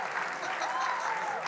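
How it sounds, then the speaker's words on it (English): Warm applause from a church congregation during a Sunday sermon, a steady wash of many hands with a faint tonal ring running through it. "Clap a little harder."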